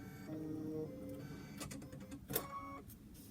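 Embroidery machine stitching a placement line for a teddy bear's nose in black thread, a steady mechanical ticking run with a few sharper clicks, close and alone.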